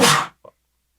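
A single loud, close sneeze bursts out and cuts off sharply, followed by a brief faint vocal sound, then silence.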